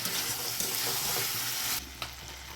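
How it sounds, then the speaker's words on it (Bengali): Cauliflower, potato and prawn curry with poppy seed sizzles loudly in a pan while being sautéed and stirred, then the frying drops to a quieter hiss near the end. "আবার একটু কষিয়ে নেবো"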